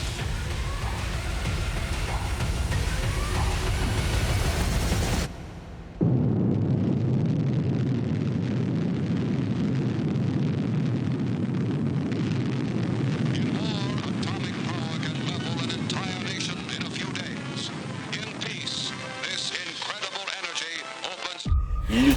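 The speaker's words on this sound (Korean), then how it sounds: "원자폭탄이 폭발을 했습니다." The first atomic bomb test at the Trinity site, an implosion-type spherical device, detonating: a loud, deep, sustained roar that rises abruptly after a short cut and rumbles on for about fifteen seconds before ending sharply.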